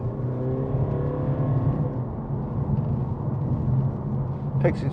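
Mercedes-Benz CLA220d AMG Line Shooting Brake with a 2.1-litre diesel engine accelerating from inside the cabin, a moderate droning engine note rising in pitch over road noise, steady and unaccompanied.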